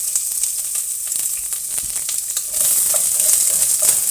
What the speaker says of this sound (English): So we're going to get a really great sizzle going on that right away.